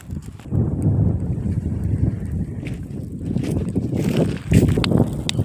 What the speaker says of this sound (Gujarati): પવન જોરદાર આવે